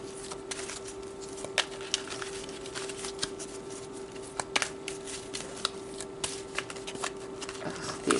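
Large tarot cards being shuffled by hand, a close run of soft papery riffles and flutters with sharper slaps scattered throughout, over a faint steady hum.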